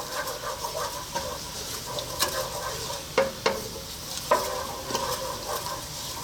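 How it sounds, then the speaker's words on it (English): Whole spices sizzling in hot oil for a potato mushroom curry, a steady bright crackle broken by several sharp clinks and scrapes of a utensil against the pan, no talking. "just let them do their thing in the hot oil for a few seconds"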